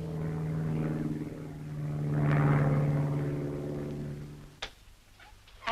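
A propeller search plane drones steadily overhead in a mountain setting, its engine hum swelling and fading with no talk, then a few sharp knocks near the end.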